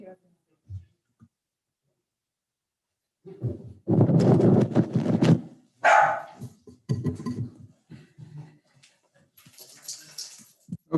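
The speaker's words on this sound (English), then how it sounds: "That was my dog, sorry." A dog barks in a few sharp bursts, fairly close, during a town commission meeting, with quiet gaps between and some indistinct voices nearby.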